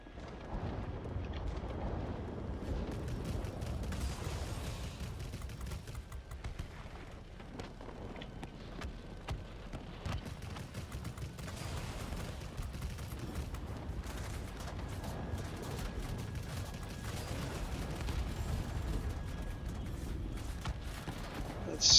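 A Lavochkin La-160 jet fighter in World of Warplanes fires continuously, its guns a dense crackling roar with no breaks under the steady engine drone.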